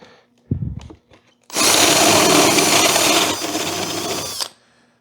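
A power drill whines loudly for about three seconds as it bores into a wooden radial arm saw table, after a few brief clicks and knocks.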